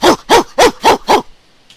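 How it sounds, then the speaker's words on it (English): Cute pre-recorded puppy noises play from a robot's speaker: five short, evenly spaced, loud yipping barks in quick succession, followed by silence. "you hear, cute puppy noises coming from it"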